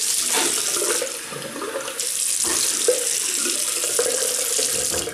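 Tap water runs steadily from a bathroom faucet into a sink while the face is wetted before a shave with a Parker 96R double-edge razor, with a few brief splashes and hand movements breaking the flow and no speech.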